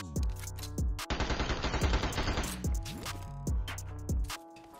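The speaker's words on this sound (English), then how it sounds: "I love sniping with the Uzi." Rapid Uzi automatic fire in a video game, with short loud bursts that break into a sustained dense rattle of shots in the middle and then more clipped volleys, heard alone with no talking.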